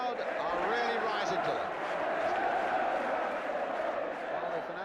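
Crowd at a Chelsea v Sheffield United football match, a dense, steady roar of many voices filling the ground, with broad cheering and a constant wash of noise throughout.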